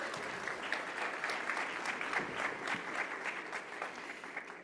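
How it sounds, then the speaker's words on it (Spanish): An audience applauds guests at a business talk on AI and digital transformation, dense, even clapping from a seated crowd that holds steady and close throughout. "Un aplauso para nuestros invitados"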